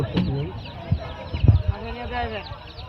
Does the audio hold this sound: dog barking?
no